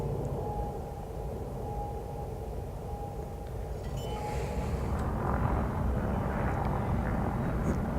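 A spaceship sets down on a planet in Elite: Dangerous, a steady low engine rumble that swells and grows slightly louder and rougher toward the end, with no talk.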